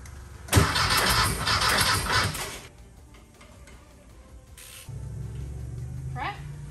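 A Baja Beetle engine cranks hard for about two seconds, falls quiet, then cranks again and catches into a low rough idle, with timing trouble causing backfiring; brief voices are audible in the background.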